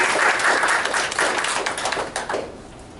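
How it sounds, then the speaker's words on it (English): Trustees at a college board meeting give a round of applause, dense steady clapping that carries on for a few seconds, then starts to fade, with little talk over it. "Let's round of applause for the"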